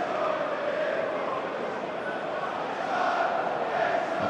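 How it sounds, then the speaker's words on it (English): Football fans at Stamford Bridge during a Chelsea match against Nottingham Forest create a broad, sustained crowd roar of applause and cheering, steady and loud from distant stands. "it's great to see the incredible applause he's getting from the fans."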